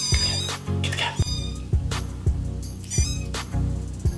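Repeated cat meows and yowls from a speaker, broken by regular clicks over a constant low hum.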